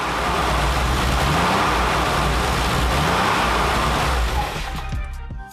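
Modified 3.6-liter air-cooled flat-six in a Porsche 993, rated 321 horsepower, running with a loud, steady engine roar throughout that eases off slightly toward the end.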